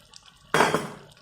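A short burst of water splashes and pours into a pot of chicken curry, starting abruptly and trailing off after about half a second, close and fairly loud.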